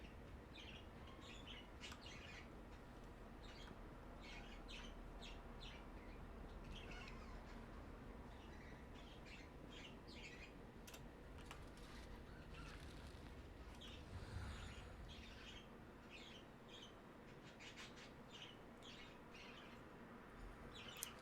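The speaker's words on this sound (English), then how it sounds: "Birds are sleeping, but they're also still chirping." Small birds chirp in scattered short calls throughout, moderately close, over a steady low background hum with no talking.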